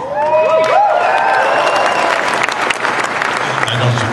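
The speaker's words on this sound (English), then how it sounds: "I know you clapped at Stratford," A fan convention crowd at Fan Expo 2011 applauds William Shatner with loud, dense, sustained clapping and some cheering. A voice is briefly heard at the start.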